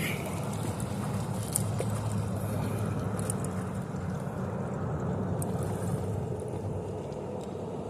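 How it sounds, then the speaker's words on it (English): Strong wind buffeting the microphone while kayak fishing, a constant loud low rumbling roar that fills the whole stretch, with faint water and gear sounds underneath. "Wind is just a beast."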